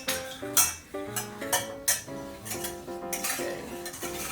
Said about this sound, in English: we're going to just whisk this together lightly